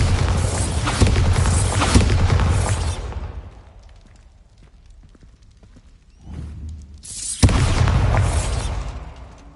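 Loud booming bursts from the Bombarda blasting spell in a Harry Potter video game, a heavy explosion for about three seconds, a brief lull, then another strong blast and rumbling roar.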